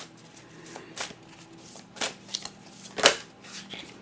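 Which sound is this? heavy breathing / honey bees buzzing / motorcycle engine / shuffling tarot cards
shuffling tarot cards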